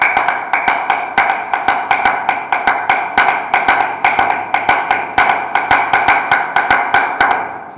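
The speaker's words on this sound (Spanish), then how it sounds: "Y aquí tenemos un instrumento de caña brava que nosotros le decimos guagua," A cata, a hollow wild-cane rumba instrument, is struck with sticks in a steady Cuban clave-based pattern, sharp woody clicks repeating quickly and evenly, loud and close with no voices.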